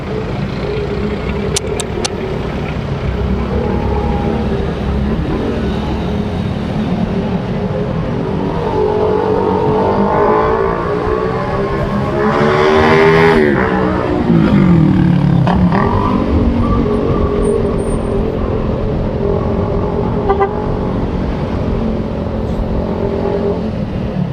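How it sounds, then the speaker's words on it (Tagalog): Steady road traffic on a busy street, with car and truck engines rumbling and revving continuously and one vehicle surging louder as it passes close by midway through. "medyo matraffic talaga grabe"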